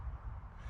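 A crow caws in woodland in the evening, a short, quiet call at a distance over a low background hum of the forest.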